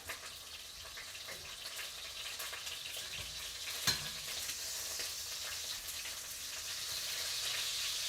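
Chicken searing in a pan, a soft, steady hiss of fat sizzling at moderate distance with one sharp clack midway, quiet and unaccompanied by speech.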